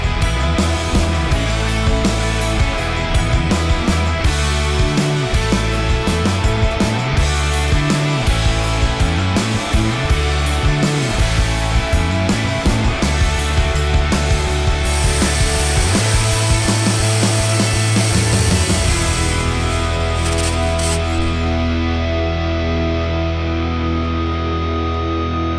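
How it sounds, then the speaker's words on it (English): A loud, steady whine of a Dremel with a diamond grinding bit drilling a hole in hard material, continuous for the whole stretch with shifting pitch and a brief higher screech near the end. "we'll take our diamond grinding bit from the Dremel and we'll go in and we'll finish it off"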